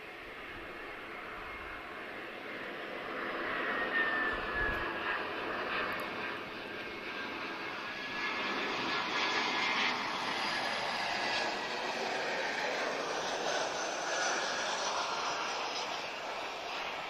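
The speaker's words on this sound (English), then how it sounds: "TAP A320 just arriving from Amsterdam" A TAP Airbus A320 arriving at Lisbon Airport from Amsterdam, a distant, steady jet engine roar and rush that builds slightly and holds, heard at moderate volume over open airport ambience.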